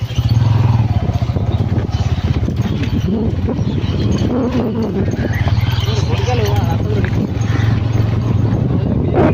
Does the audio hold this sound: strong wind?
yes